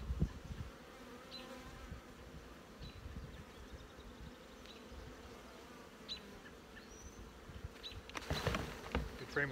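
Honeybees hum in a split hive box, a close, steady buzz with individual bees droning past. Brief knocks and rustles of handling come at the end.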